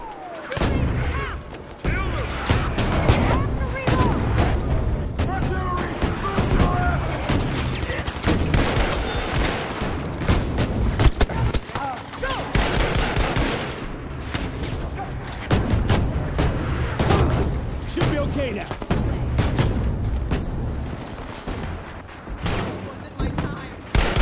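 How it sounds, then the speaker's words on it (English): Artillery barrage in the Battlefield 5 video game during an Iwo Jima battle, with dense, continuous gunfire and repeated booming explosions, loud and chaotic throughout. "An artillery barrage on this location."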